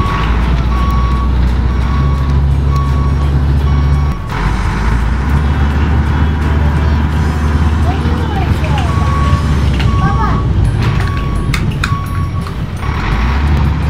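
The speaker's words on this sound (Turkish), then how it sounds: "kamyon buraya boşaltsın" A Play-Doh toy dump truck gives off a steady, repeating electronic reversing beep, loud and close, running through a busy mix of toy noise and children's voices.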